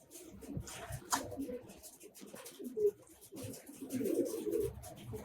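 Domestic pigeons, including Giribaz tumbler types, coo softly around a loft, low murmuring calls repeating through the clip amid light rustling and wing movement.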